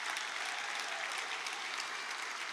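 A meeting audience applauds a band of music educators from Hortonville Area Schools at a credit union's annual meeting; a dense, steady wash of many hands clapping fills the room without a break.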